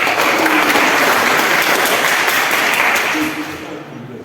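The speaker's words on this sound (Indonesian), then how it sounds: "Tepuk tangan untuk Sabna." A classroom full of people claps together in a dense burst of applause that gradually tapers off at the end.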